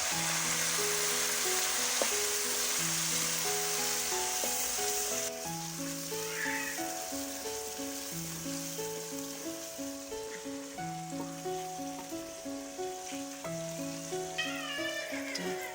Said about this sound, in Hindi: अब हम इसमें टमाटर शामिल करेंगे और टमाटरों को भी अच्छी तरह पका लेंगे।